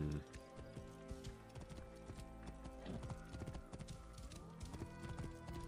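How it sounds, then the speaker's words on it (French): Horse hooves in the video game Assassin's Creed Origins, a steady rhythmic clip-clop of a galloping mount with an occasional whinny, mixed under game music and ambience with a voice speaking. "Oui, j'ai pris mon cheval."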